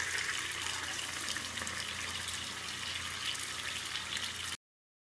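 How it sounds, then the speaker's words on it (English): Water runs steadily from a tap during hand washing in a virtual-reality nursing simulation, a continuous hissing stream at moderate level that cuts off abruptly near the end. "Wash hands thoroughly."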